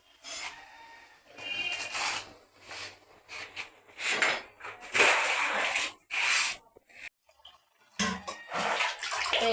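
Raw chicken meat is washed by hand in water, with irregular bursts of splashing and sloshing broken by short pauses and a few light knocks against a container.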